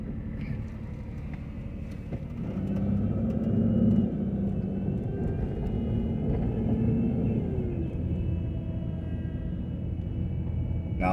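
Several cars pass along a street in Toledo, Ohio's East End, making a steady close road rumble that swells for a moment as one goes by.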